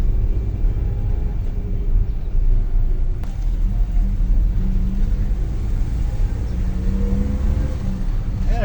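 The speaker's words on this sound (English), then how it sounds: "I can give it gas and it goes." A car engine pulls steadily under throttle with a low, continuous rumble and a rising whine near the end, heard from inside the moving vehicle, with no talking over it.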